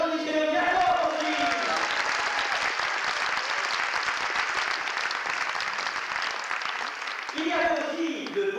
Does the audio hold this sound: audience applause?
yes